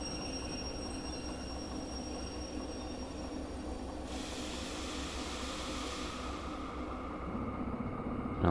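A train in the Derail Valley game rolls steadily along the rails with a continuous rumbling clatter, then a broad hissing rush of braking sets in partway through and holds, with no talk.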